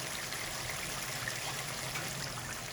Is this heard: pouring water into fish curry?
yes